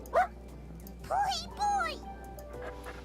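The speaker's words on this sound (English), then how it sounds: "The dog cowers and whines." Dog in the video game Crystalline whining, with a short yelp and then two drawn-out rising and falling whimpers, close and clear over faint background hum.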